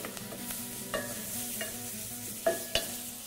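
Vegetables for soup browning in a pan, a soft, quiet sizzle with a few stirring scrapes and clicks spaced through it.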